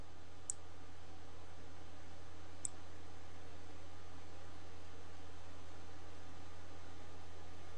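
A computer mouse gives two faint, crisp clicks about two seconds apart over a steady fan hum and hiss, with no voices.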